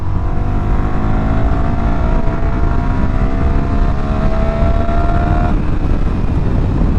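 A CFMOTO 300SS motorcycle accelerates hard in third gear from 35 mph, its loud, close engine whine climbing steadily in pitch before an abrupt change near the end, with constant wind roar throughout.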